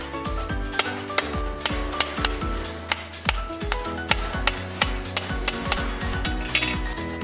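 Hammer blows on sheet metal held against a steel backing plate during duct fabrication: a quick series of sharp, ringing metallic strikes, close and loud, in an irregular rhythm with short resonant decays between hits.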